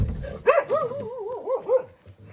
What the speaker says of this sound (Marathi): आता कुत्र्यांची भांडणं बघा